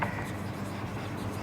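A pen writes journal entries by hand on paper for a Class 11 accountancy lesson, giving a steady, close, continuous scratching and rubbing that runs throughout without pause.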